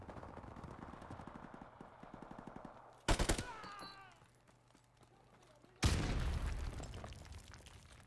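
Call of Duty 4 Modern Warfare Remastered team deathmatch gunfire, with rapid automatic shots, a sudden loud blast and a second heavy burst over steady game background noise.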